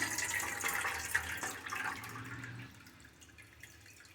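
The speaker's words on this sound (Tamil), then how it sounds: "இப்போ நம்ம அந்த புளி தண்ணியை வந்து நல்லா இருத்து இந்த மாதிரி ஃபில்ட்ரு பண்ணி எடுத்துக்கலாம்" Tamarind water for a fish curry pours through a strainer into a vessel, a steady close trickle and splash that gradually thins out and quietens.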